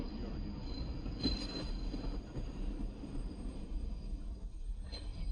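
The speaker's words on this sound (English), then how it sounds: "We got a train coming." A train passing in the Bronx, a steady rumbling roar of wheels on rails with faint squealing, close and loud throughout.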